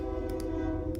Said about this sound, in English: Sorry for the train, if you can hear that in the background.